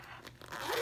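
A quick, soft zipper pull on the back pocket of a handbag, one short rasping slide heard close up and faint.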